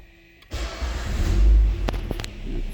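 A Citroën C5 engine cranks and catches after a brief quiet start, then settles into a loud, steady idle rumble, with a couple of short clicks partway through.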